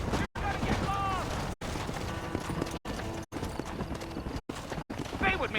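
Horse hooves clip-clop at a quick, steady gait during riding in the Red Dead Redemption video game, close and clear, with a voice speaking over the hoofbeats.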